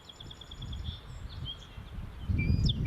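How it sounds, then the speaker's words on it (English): Songbird babble playing from a video, rapid repeated high chirps and trills over a low rumbling background that swells near the end. "here's a little video about the birdsong babble"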